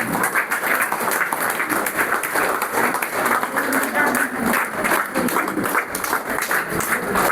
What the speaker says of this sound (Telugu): మేడం ఇక్కడికి వచ్చిందాక మీ చప్పట్లు ఆగొద్దు.